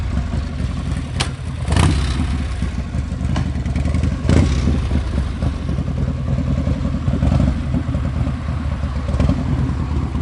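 A 1985 Harley-Davidson FXSB motorcycle engine runs steadily nearby with a loud, lumpy V-twin rumble, broken by a few sharp clicks and clatters.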